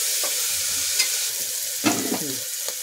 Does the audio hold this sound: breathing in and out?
no